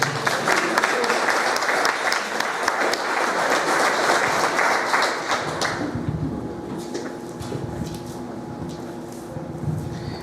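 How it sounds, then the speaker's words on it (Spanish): A church congregation claps for the Lord during a Spanish-language evangelical service, a loud, crowded burst of many hands for about six seconds that then thins and fades into quieter room noise. "denle palmas al Señor"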